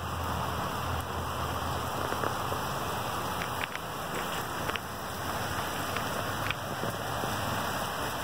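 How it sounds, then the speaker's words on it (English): Steady rain hisses down hard and close, a dense unbroken wash of patter with occasional sharper drips, and no voices. "I know you guys can hear the rain."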